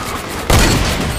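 A loud, close burst of gunfire in the game Fortnite cuts in abruptly and rolls into a sustained, dense boom over steady game noise, with no talk.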